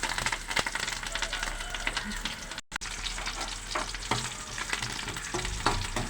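Garlic, onions and curry leaves frying in oil for a sambar tempering, a dense close sizzle with scraping stirs and small clinks throughout, briefly cutting out before resuming.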